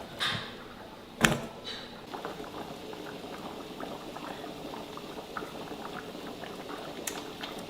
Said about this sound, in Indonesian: Kalau udah mendidih ya, itu sekali-sekali diaduk itu udah boleh.